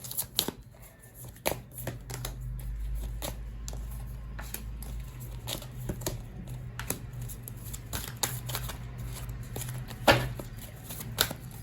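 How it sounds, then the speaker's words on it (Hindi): Tarot cards shuffled and drawn from a deck, with a run of crisp riffling flicks and soft card slaps close by, irregular in rhythm, over a faint low hum and no talking. "तो अब हम और कुछ कार्ड्स निकालेंगे अनदर डेक से"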